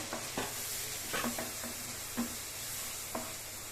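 Cut tomato added to spice paste frying in a pan, a low steady sizzle broken by several sharp clinks and scrapes of a spoon stirring.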